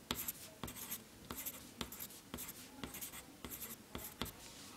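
Pen sketching on paper, heard as close, quiet, rhythmic scratchy strokes with regular sharp ticks as the pen lifts and lands, and no talking.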